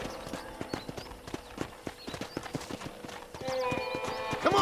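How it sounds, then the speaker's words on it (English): Horse hooves clip-clop at a gallop with a neigh, ridden across a ranch in the Western video game Red Dead Redemption, steady rapid thuds alongside game music and ambience. "let's see if you can still ride a horse."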